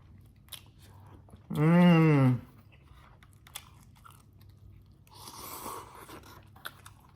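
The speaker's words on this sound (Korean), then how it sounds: "아마 마지막 한 입이 될 것 같아요. 먹어보겠습니다." A bite of Russian-style Dosirak instant ramen with mayonnaise and sausage being chewed, soft crunchy chewing close up, with a brief hummed vocal sound just before.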